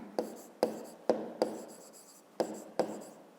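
A pen writes a note on paper, with short scratchy strokes in quick bursts, about eight distinct scribbles spaced irregularly, close and quiet in a still room.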